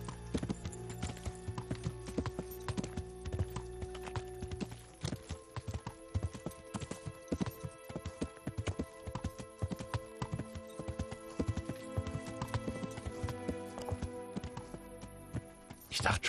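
Hooves clip-clop on the ground as a horse is ridden in the medieval game Kingdom Come: Deliverance, a fast, continuous rhythm over a game soundscape, with occasional distant voice-like sounds.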